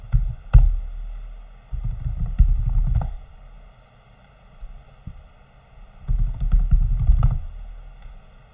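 A command is typed on a computer keyboard, heard as soft, close clusters of key taps in two bursts with a short pause between them, over a low steady hum.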